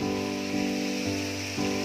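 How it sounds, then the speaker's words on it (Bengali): Oil sizzles steadily in a pan as onions fry deep red for mutton biryani, a continuous crackling hiss over a low humming drone. "এই আমাদের পেঁয়াজ ভাজা হচ্ছে"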